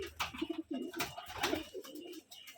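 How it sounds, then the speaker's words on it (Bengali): A newly acquired pair of pet pigeons coo softly at close range, giving a few low, rolling, throaty calls in quick succession. "এবার দেখাবে তার কিছু কবুতর এই যে এই জোড়া নতুন সেট দেখুন মাশাল্লাহ কত সুন্দর কবিতরগুলো"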